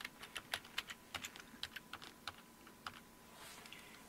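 Password keys tapped on a Compaq CQ-45 laptop keyboard, a quick run of light, evenly spaced clicks, close and fairly quiet, with a short pause near the end and no talking.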